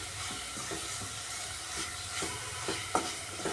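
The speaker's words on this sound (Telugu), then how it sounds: "బాగా మిక్స్ చేసుకుందాము" Bottle gourd halwa with sugar being stirred in a pan, a spoon scraping in soft irregular strokes over a steady sizzle, with a few sharper knocks against the pan near the end.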